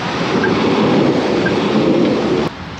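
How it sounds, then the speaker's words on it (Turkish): A tram passing through a Polish city streets, a steady loud rolling rumble with rail noise that holds for over two seconds before dropping off abruptly near the end. "Böyle tramvay da geçiyor şehirden."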